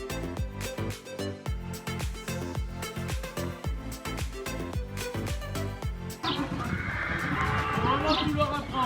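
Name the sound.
horse neighing at riding stables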